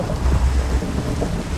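A rumbling thunder strike in Minecraft, a low heavy roll swelling early then fading into steady rain noise, close and fairly loud with no talking.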